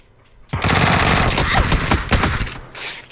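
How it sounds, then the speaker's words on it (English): Rapid automatic gunfire erupts from a video game shootout, a dense, loud burst of shots that runs about two seconds and is followed by a few scattered rounds. "I went to shoot him and Brad's prone ass body was in the way."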